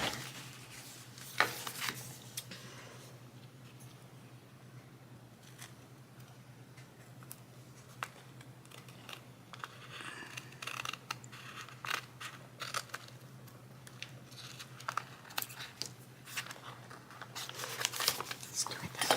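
Scissors snip paper for a junk journal craft project, a series of small, quiet cuts and paper rustles scattered across a calm indoor scene, with a person speaking now and then.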